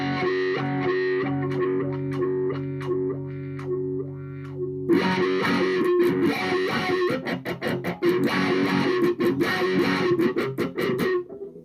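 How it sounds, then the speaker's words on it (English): Electric guitar played through a faulty Dunlop Crybaby wah pedal with distortion on, first held sustained notes, then louder, choppier strummed chords with a harsh, gritty edge, played alone without talk. "I've turned on a little distortion now, and again you can kind of hear"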